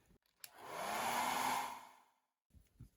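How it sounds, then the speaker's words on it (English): A hair dryer whooshes on for about a second and a half of steady airflow, drying watercolor paint, then cuts off, followed by faint handling noises. "I'll just grab my hairdryer once more."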